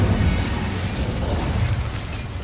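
The Incendio fire spell is cast in the video game Hogwarts Legacy, a loud, continuous roaring whoosh of flame with rumbling low crackle that holds steady throughout.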